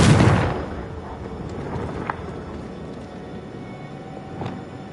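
A Confringo blast spell goes off in the Hogwarts Legacy game as a loud, close booming explosion at the start, then a rumbling tail that fades over several seconds, with a couple of faint cracks later.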